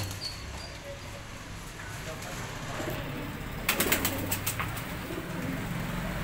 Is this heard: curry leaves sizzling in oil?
no